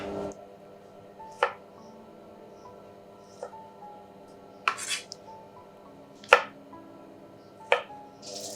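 Onions being chopped coarsely for a keema aloo curry, with sparse sharp knife knocks on a board, about six over several seconds, against a quiet kitchen hum.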